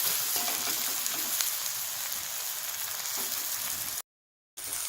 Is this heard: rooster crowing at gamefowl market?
no